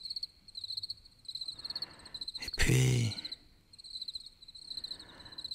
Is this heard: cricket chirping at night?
yes